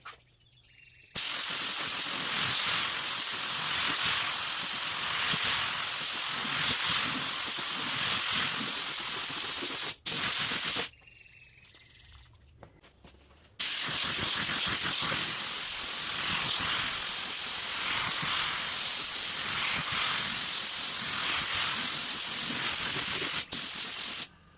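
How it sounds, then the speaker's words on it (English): Rust-Oleum spray paint hisses loudly in two long continuous bursts of light coats on a car fender, separated by a brief pause with only faint background noise. "I'm going to just continue spraying light coats like this."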